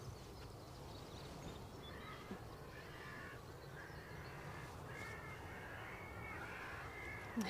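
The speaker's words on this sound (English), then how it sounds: "Crows are no happy." Crows caw repeatedly at a distance over a windy outdoor rumble at an airport, their harsh calls clustering in bursts, with a brief near sound at the end.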